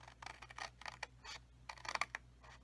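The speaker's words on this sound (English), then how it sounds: "and then I'm going to cut up these flaps here" Scissors snip through the cardboard flaps of a handmade flip-top box in a quick series of faint crisp cuts, over a low steady hum with no speech.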